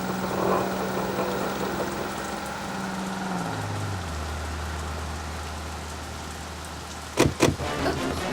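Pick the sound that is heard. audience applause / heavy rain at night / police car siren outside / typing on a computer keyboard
heavy rain at night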